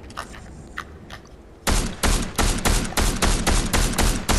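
Video game gunfire comes after a quiet stretch of faint clicks: a loud, close volley of roughly eight rapid, evenly spaced shots.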